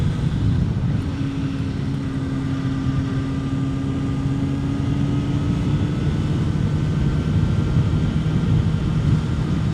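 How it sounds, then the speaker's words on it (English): A motorcycle engine hums steadily on Chuckanut Drive, its pitch climbing slowly as it accelerates out of a curve, with constant wind rush and no voices. "Now we're just going to accelerate out of it."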